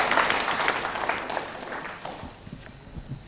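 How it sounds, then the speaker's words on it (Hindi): A studio audience on a Doordarshan quiz programme applauds a winner, the clapping loud at first and then thinning and fading away over a few seconds. "तालियां जोर से बजाएं इनके लिए"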